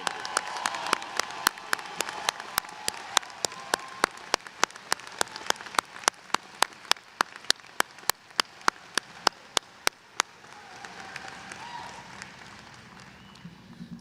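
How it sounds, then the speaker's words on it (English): Scattered, sharp individual claps from a law school graduation audience ring out over a quiet room, thinning toward the end rather than building into full applause. "join me in offering a warm and enthusiastic round of applause"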